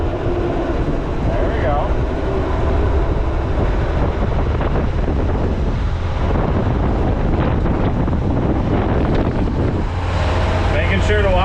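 A turbocharged International Harvester truck pulls away in second gear and climbs into third, its engine roaring under heavy wind buffeting from inside the cab, with someone speaking briefly over the noise.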